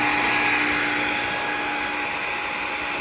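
A JD2 Model 32 hydraulic tube bender's pump motor, filled with ISO 68 hydraulic fluid, runs as a steady, loud whirring drone with a constant hum, holding unchanged for about three seconds with no talking.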